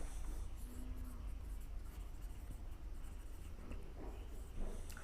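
Someone writes on a board in a quiet room, the marker or chalk scratching in short strokes one after another for several seconds, faint and close, with no voice.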